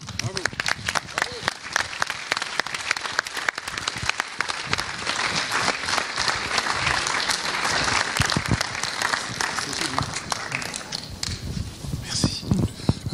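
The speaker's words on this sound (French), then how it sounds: "Je vous demande donc d'accueillir sous vos applaudissements Jean-Claude Bourret" Audience applause at an evening festival event in a hall, loud sustained clapping from a large crowd that gradually thins toward the end.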